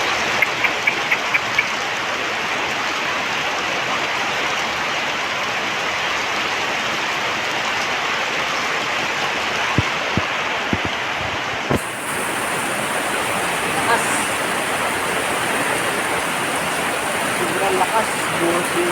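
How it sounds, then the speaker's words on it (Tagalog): Heavy downpour of rain in Naic, Cavite, a dense, steady roar of water hissing on surfaces with a few sharp knocks partway through. "Sobrang lakas, buhos yung ulan."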